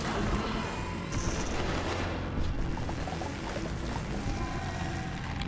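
Twin lasers firing in the game Dome Keeper, a dense, sustained crackling blast of energy fire that runs loud and continuous with little break.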